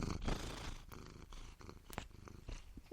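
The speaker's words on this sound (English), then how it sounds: "She's purring, isn't she?" A cat named Honey purrs softly up close in a low, rhythmic rumble, quiet and continuous with slight breathy pulses and no talking.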